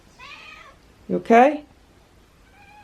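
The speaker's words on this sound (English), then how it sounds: "She's been meowing a lot." A cat meows indoors, a short soft call followed by two louder, close, drawn-out meows, with a person speaking quietly nearby.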